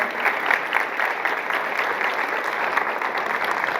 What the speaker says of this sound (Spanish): Si le damos un fuerte aplauso al doctor,